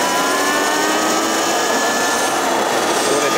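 A Sur-Ron X electric dirt bike's motor is held at full throttle, giving a loud, steady high-pitched whine with a rushing, windy hiss that stays constant the whole time, with no talking.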